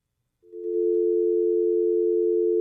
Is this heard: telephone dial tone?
yes